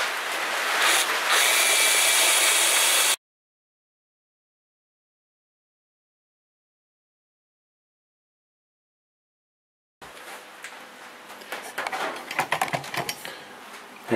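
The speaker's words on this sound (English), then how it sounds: "I'm just going to drill straight through the steel and use that as the guide" A power drill bores through steel while holes are made for a 4WD fridge slide, giving a sustained grinding burst, a long silence, then a rougher, uneven stretch of drilling with sharp spikes.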